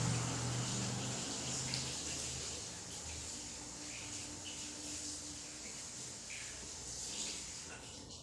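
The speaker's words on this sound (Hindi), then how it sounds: "मैं बाहर पानी डाल के आ गई हूँ और हैंड वॉश किया मैंने" Tap water runs steadily into a sink as hands are washed, a continuous close splashing rush that softens slightly partway through.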